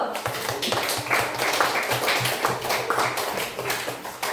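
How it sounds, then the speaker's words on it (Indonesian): A classroom applauding group 2, with a steady stream of hand claps from several people, fairly close and continuous, and faint voices mixed in. "kita beri aplaus untuk kelompok 2 dulu"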